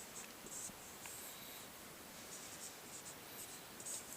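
A teacher writing on a board during a physics lesson, with faint, brief scratching strokes over a quiet hiss.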